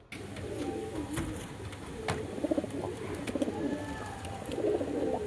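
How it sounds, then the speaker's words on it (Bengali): Pigeons coo repeatedly in soft, rolling bursts close by, a pair of deep light (ডিপ লাইট) birds, one male and one female, set loose together, with steady background rustle and no talk. "পেয়ারটা কেমন ডাকছে দেখো"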